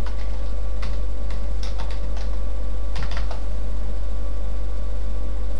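Someone typing a network name on a computer keyboard, with scattered clusters of key clicks over a loud, steady low hum and background noise.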